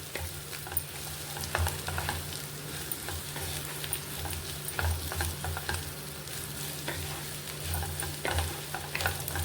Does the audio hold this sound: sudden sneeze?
no